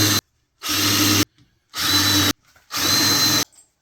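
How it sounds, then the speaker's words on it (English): A power drill fitted with a countersink bit bores into wood pilot holes on a hanging plant frame, three loud whirring bursts of about half a second each, separated by short pauses, with no talking. "Now I'm going to use the countersink."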